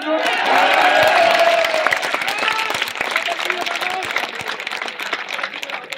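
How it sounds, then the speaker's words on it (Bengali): Audience applause at a BNP political rally, a loud burst of crowd clapping with some cheering that swells early and then carries on steadily as a dense wash. "তার নামে একটা হাততালি দেন তো"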